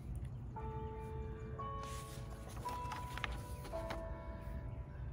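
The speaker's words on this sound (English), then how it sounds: "I don't know if you can hear the bells in the background." Distant church bells ring with sustained tones over a low rumble of ambient noise, faint and far off.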